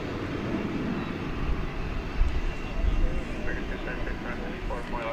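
American Airlines Boeing 787-9 Dreamliner jet engines roar steadily at an airport runway, a broad continuous rumble with a slight swell midway, while a voice talks over it.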